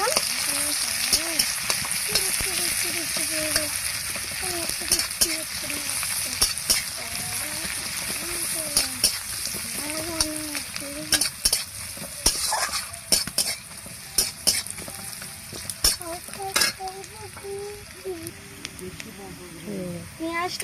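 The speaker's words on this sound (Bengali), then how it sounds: "পেঁয়াজটা ভাজা হয়ে গেছে," Chopped onion fries with whole cumin seeds in a pan, giving a steady, busy sizzle with frequent clinks and scrapes of a spoon stirring against the metal, close up, while a voice talks over it at times.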